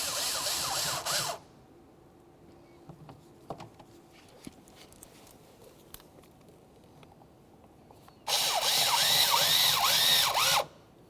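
A power driver with a 5.5mm socket runs door panel mounting bolts into a 2001-2005 Ford Explorer Sport Trac door, giving two close, steady whirring bursts separated by quiet handling noises.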